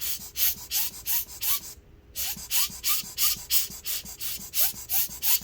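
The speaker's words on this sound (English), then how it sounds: "let me use my handheld air blower here" A handheld air blower pumps air through the fans of a Dell XPS 15 9560 laptop in a steady run of about a dozen short, breathy puffs, briefly interrupted, close and fairly loud.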